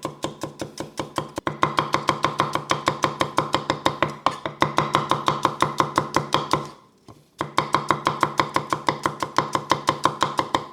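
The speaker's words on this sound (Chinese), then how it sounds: "再来差不多3粒啦小葱头跟它切丝" Rapid, steady knife chopping of garlic and shallots on a cutting board, close and crisp, running in an even rhythm with one brief pause before resuming; no talking.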